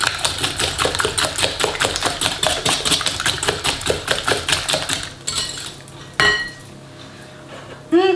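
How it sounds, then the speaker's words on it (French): Whole eggs and sugar are beaten together in a bowl for a flourless hazelnut cake, a whisk clinking briskly against the bowl in a fast, steady rhythm for about five seconds before a few scattered knocks. "On mélange les œufs et le sucre."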